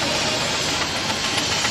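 A 4.5-inch Foden C-type steam wagon running at a steam fair, giving a dense, continuous hiss and mechanical rumble, loud and close with no clear rhythm.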